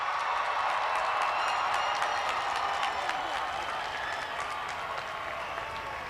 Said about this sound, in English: let's have one more round of applause for the class of